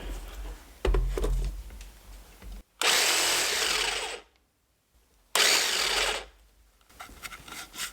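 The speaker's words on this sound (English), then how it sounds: "I'm going to just scuff this up, put a couple grooves in here to give it some better adhesion" A power tool scuffs and grooves a part for better adhesion in two loud, sustained bursts of grinding, separated by a short silence, with softer handling noises before and after.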